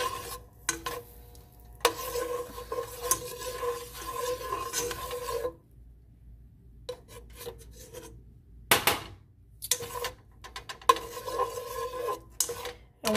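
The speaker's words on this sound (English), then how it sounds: "While the butter is melting" Butter melting in a pan gives faint sizzling and scraping stir sounds in bursts, with quiet gaps between them, close and soft.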